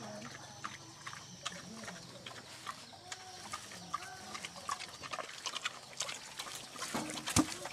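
Pigs in a Karen village in northern Thailand munch and crunch on pineapple, giving a faint, irregular stream of chewing and snuffling sounds that grows busier toward the end, with occasional bird calls and quiet voices nearby.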